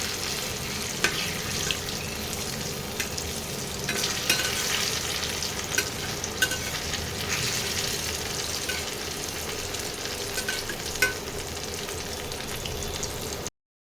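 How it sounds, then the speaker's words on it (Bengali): Pumpkin slices slowly frying in hot white oil, a steady dense sizzle and crackle with occasional clinks and scrapes of a utensil against the pan, continuous throughout. "এইভাবে আস্তে আস্তে ভেজে নিই"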